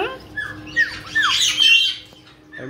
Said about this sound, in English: I got some birds over here feeding each other